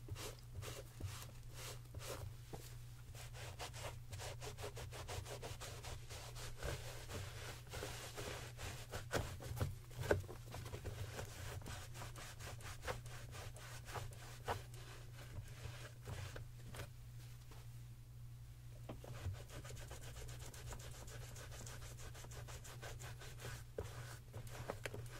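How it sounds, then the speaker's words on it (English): A microfiber cloth rubs and scrubs the fabric of white Gucci sneakers in quick, repeated strokes, close and soft over a constant low hum. "I like to clean off the fabric first."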